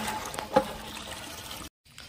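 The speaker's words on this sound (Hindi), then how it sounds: "पानी भर लिए हैं, अभी ले जा रहे हैं पानी" Water trickles and splashes steadily into containers being filled, a close continuous liquid patter with a brief louder splash, then a sudden cut to near silence.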